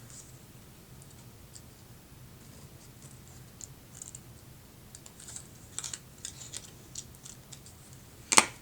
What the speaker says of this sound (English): And then you just need to trim the little triangle out so it's a pennant shape.